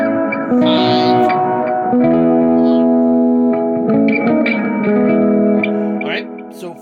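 An electric guitar run through effects plays a sustained, echoing solo built on 4-5-1 chord tones, with ringing held notes and reverb tails, loud and close throughout.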